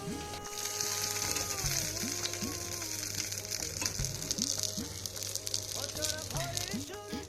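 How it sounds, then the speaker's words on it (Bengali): Bhetki fish bones frying crisp in hot oil give a loud, continuous sizzle, with metallic clinks and scraping of a utensil against the pan mixed in, plus a faint background hum. "এই কাটাগুলো একদম লাল লাল করে কড়া করে ভেজে তুলে নিচ্ছি"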